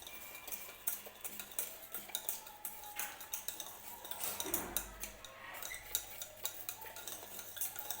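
Dough for bread patties is worked and mixed by hand in a bowl, giving soft, irregular scraping and squishing sounds with occasional light clinks, close and fairly quiet, with no talking.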